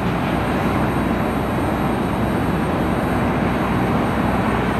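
An airliner taxis toward the runway at Cleveland Hopkins Airport, producing a loud, steady jet engine roar and broad rumble that stays constant from start to end, with no talking.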